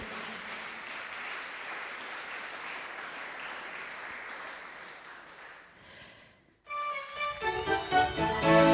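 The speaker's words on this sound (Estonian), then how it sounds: "Teeme talle suure aplausi." Audience applause at the Kuldne Plaat 2014 award ceremony, a steady dense wash of clapping for several seconds that fades, then music with a strong beat takes over.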